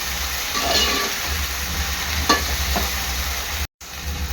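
Ginger, garlic, green chili and coriander paste frying in oil for Agri Koli style mutton gravy, a steady close sizzle with a few light clinks and stirs, briefly cut to silence near the end.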